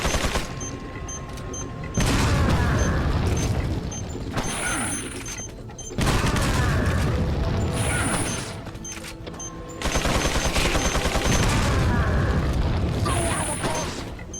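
Dense bursts of gunfire and booming action effects in the video game Resident Evil 4, loud and close, coming in long rolling waves with brief quieter gaps between them.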